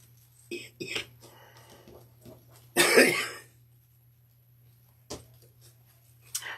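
A few quiet coughs and throat clears in a still room, one harsher cough standing out, with low murmured speech between them.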